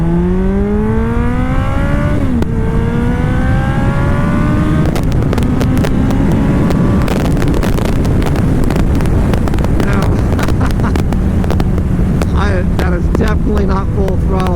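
A 2009 Kawasaki Ninja ZX-14 sport motorcycle revs up through rising gear pulls, each climb in pitch dropping at a shift, heard under heavy wind buffeting on the microphone during a ride.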